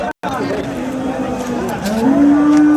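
A cow lets out a long, drawn-out moo close by, with crowd chatter and general bustle of a busy cattle market in Sangola, Maharashtra, around it.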